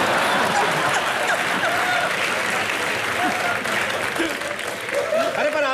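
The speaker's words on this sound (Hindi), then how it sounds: "उन्होंने भी देख कैसे ताली बजाई" Studio audience applause at a Dubai taping of a comedy talk show, a dense, continuous wash of clapping throughout with faint crowd noise mixed in.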